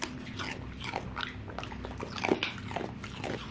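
A dog gnaws and crunches on a raw carrot up close, irregular wet bites and chewing sounds in a quiet room, with no talking.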